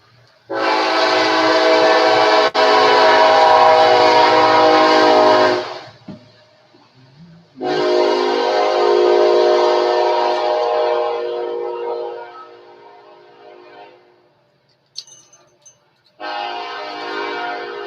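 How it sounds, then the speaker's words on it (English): A Kansas City Southern eastbound freight train passes close by, its horn sounding in long loud blasts with breaks between them, over a steady rumble of rolling cars. "Here comes the Kansas City Southern Railroad eastbound,"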